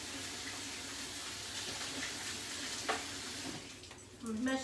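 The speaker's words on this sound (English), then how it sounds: "Let me wash my hands just a minute." A kitchen tap runs steadily while hands are washed under the stream, a continuous close hiss of water with a few brief splashes and knocks near the end.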